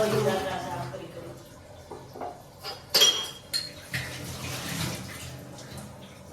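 Dishes, pots and cutlery clink and knock while being washed by hand, with running water splashing throughout and a few sharper metallic knocks in the middle; a voice speaks nearby.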